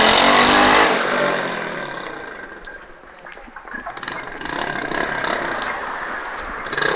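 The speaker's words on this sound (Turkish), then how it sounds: "Evet arkadaşlar motor budur." A motorcycle engine warms up before a race, revving loudly at first and then settling into a rough, throbbing idle that gradually picks up again, heard close by with no clear talk over it.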